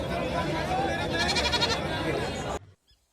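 Goats and sheep bleat repeatedly at a bustling cattle market in Digras, Maharashtra, with loud, overlapping cries amid crowd noise and talk before cutting off abruptly near the end.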